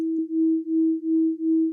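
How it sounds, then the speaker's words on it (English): Two pure sine tones at E, one equal tempered and one in just intonation, sounding together and beating in a slow, steady pulsing swell about three times per second, clean and electronic with no other sounds. "The first E is going to be the equal tempered E, and then I'm going to send in the just intonation E."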